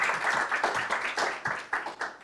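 Applause for jury members at a university competition final, with a modest number of hands clapping in uneven bursts, fairly close and fading toward the end.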